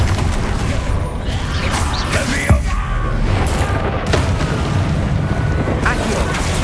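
A Confringo spell blast from Hogwarts Legacy goes off as a sharp explosive boom amid ongoing combat effects and bursts, with a voice shouting spell names throughout.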